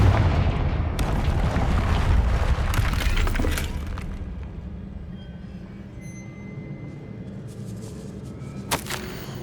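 The Confringo explosive spell goes off in the video game Hogwarts Legacy as a loud, rumbling burst with crumbling debris in the first few seconds, fading into a quieter low hum with a sharp crack near the end.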